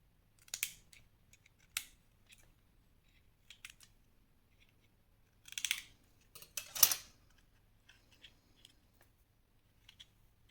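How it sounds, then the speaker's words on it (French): Scissors snipping paper at a slight angle for a scrapbooking craft, a handful of sharp, close metallic cuts in separate short bursts with quiet gaps between them. "je vais couper légèrement en biais pour que ça ne dépasse pas"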